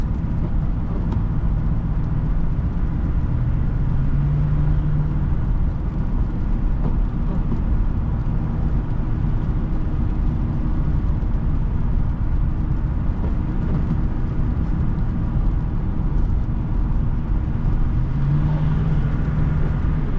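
Engine of a 2005 Chevrolet Avalanche 2500 truck while driving, a steady loud low rumble with road and cabin noise throughout, no talk.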